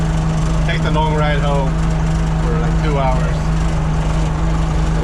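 Massey Ferguson MF165 tractor engine running on a road trip home after repairs, a steady loud low hum throughout with someone talking over it.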